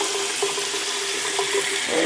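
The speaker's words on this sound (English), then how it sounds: "that water gets hot in this sink down here" Hot tap water runs into a sink in a steady, close, continuous hiss, with no talking over it.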